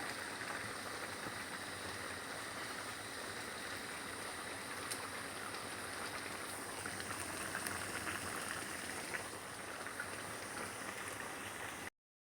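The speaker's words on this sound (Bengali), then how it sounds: "এগুলো দিয়ে আমি ভালো করে মশলাটাকে ভুনে নিচ্ছি" Chilli, cumin and coriander powder spices frying in a pan for a katla fish and taro curry, a steady close sizzle with no break, fairly soft, and nobody talking.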